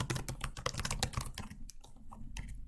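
Rapid, dense keystrokes clatter on a nearby computer keyboard as code is typed, a busy continuous run that thins into sparser taps toward the end.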